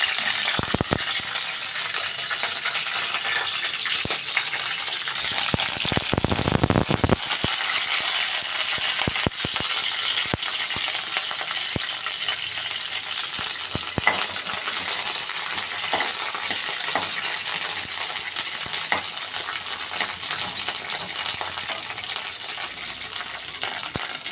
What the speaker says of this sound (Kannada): ಚೆನ್ನಾಗಿ ಫ್ರೈ ಮಾಡಬೇಕು ಹಸಿಮೆಣಸಿನ್ಕಾಯಿ.